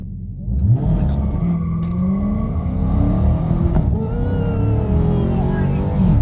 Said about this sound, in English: Quickly apply full throttle, and then just dump the brake.